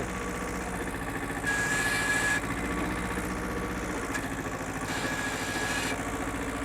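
An old Japanese 4x4 farm tractor runs steadily, a close, loud engine drone with a continuous low rumble and a throttle rise partway through. There is no talking.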